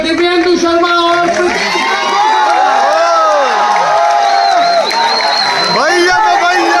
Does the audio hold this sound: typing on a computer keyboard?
no